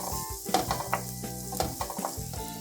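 Onions and tomatoes sizzling steadily in hot oil while frying as the base for a spicy mutton liver fry, close and continuous, with light stirring and scraping against the pan and no voices.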